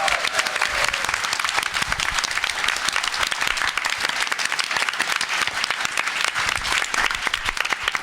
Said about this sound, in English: So can we give a round of applause for Jackalap